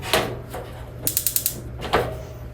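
A rapid series of sharp ticking clicks from a stove burner igniter in a 2022 Forest River Salem 280RT camper, with no propane flowing, and a few louder knob clunks before and after, close up over a low hum.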